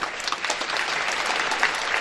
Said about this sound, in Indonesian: kita beri tepuk tangan untuk penampilan mereka, Mr. Greg.